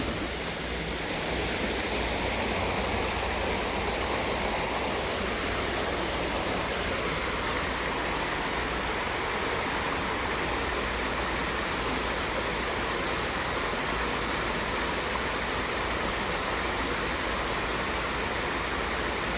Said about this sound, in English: I'm really close to the water. It's right beside me.